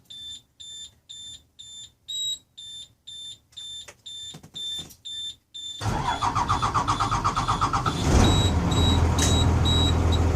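A mechanical engine fitted with a newly installed electric fuel pump cranks in a steady series of loud starter bursts, then catches and settles into a rough running idle that swells louder near the end.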